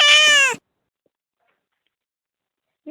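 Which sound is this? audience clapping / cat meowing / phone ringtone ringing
cat meowing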